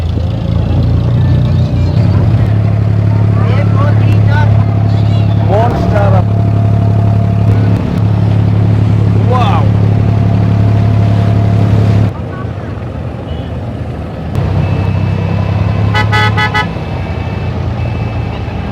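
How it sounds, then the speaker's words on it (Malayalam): An abra boat crossing Dubai Creek toward Bur Dubai, its engine droning loud and steady throughout, with horn toots rising over it and a brief dip in the engine partway, alongside wind noise. "ഒരുപാട് നേരം കാത്തുന്നതിന് ശേഷം ഞാൻ ഈ ബോട്ട് കയറിയിട്ടാണ്"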